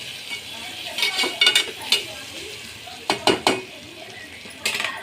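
Onion sautés in a pan for khichdi with a soft sizzle, broken by bursts of a utensil scraping and clinking against the metal; a faint voice may sit low in the background.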